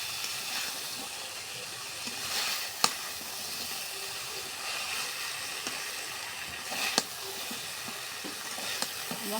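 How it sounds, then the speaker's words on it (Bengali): Pangas fish cooks with spices in a hot pan, giving a constant close sizzle and hiss, broken by a few sharp clicks of a spatula stirring it, and no voices. "মশলার সাথে আমরা ধীরে ধীরে এটা কষে নিছি।"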